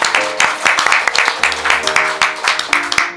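A Christmas church congregation claps together in a brisk, steady rhythm, loud and close, with sustained musical tones underneath.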